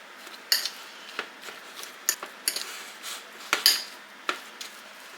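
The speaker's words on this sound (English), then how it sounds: "now that I have the bacon actually in the potatoes, I'm going to just get it mixed up in there" Bacon being mixed into potatoes in a bowl gives a run of soft scraping and clinking utensil strokes, irregular and close, with brief sharper taps against the dish and no talking.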